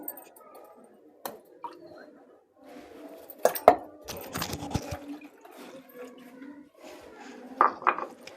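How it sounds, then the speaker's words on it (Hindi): Sugar being mixed into milk in a bowl for bread dough, heard as soft scattered clinks and scrapes of a utensil against the bowl with a few sharper knocks, quiet and close, with a voice talking now and then. "अब मैंने इसको ज़रा अच्छे से मिक्स करना है।"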